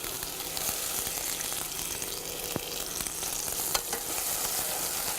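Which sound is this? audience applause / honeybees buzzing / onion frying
onion frying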